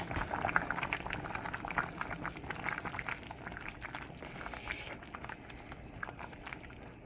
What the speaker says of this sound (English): it's got a nice boil going to it again